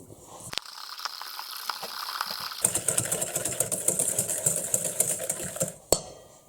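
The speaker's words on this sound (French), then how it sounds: "et je vais fouetter" Egg yolks and sugar being whisked together for a strawberry tart, a fast rhythmic scraping and clicking of the whisk against the bowl that starts suddenly and runs steadily to the end.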